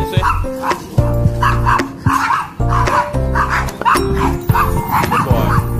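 A reactive dog on a walk barks, yips and whimpers in repeated bursts, close and loud, over busy outdoor noise with some faint talk.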